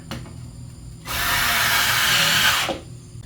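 A power drill runs in one steady burst of about a second and a half, driving screws into an Aliner RV seat hinge, close and loud with quiet before and after.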